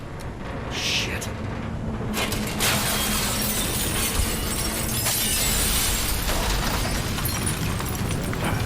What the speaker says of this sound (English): That was some really great animation of the glass breaking.